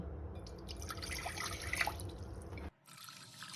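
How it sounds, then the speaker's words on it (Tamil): Water pours and trickles into a metal pressure cooker at close range for a couple of seconds, then cuts off abruptly. "குக்கரில் 2 கிளாஸ் தண்ணி விட்டுங்க."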